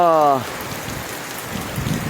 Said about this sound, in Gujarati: બહુ ધોધમાર વરસાદ આવ્યો છે